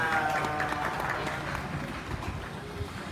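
An audience at a county fair sheep show claps, a fairly soft and scattered patter of hands heard alongside a voice over a loudspeaker.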